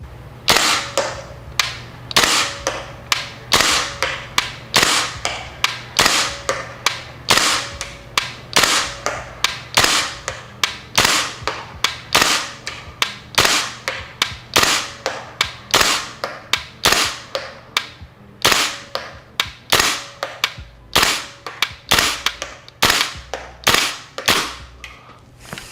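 A KWA LM4C gas-operated airsoft rifle fires loud, sharp shots one after another in a steady rhythm, roughly two per second, with no talking.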